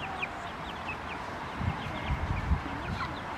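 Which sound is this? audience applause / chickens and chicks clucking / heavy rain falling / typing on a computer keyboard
chickens and chicks clucking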